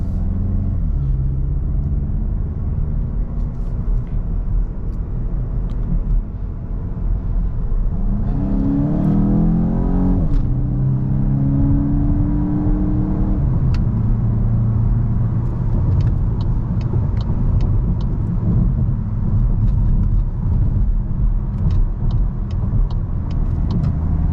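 A 2022 VW MK8 GTI S driven in sport mode on a twisty road, its engine a loud steady rumble that rises and falls as it accelerates and shifts, with no talking.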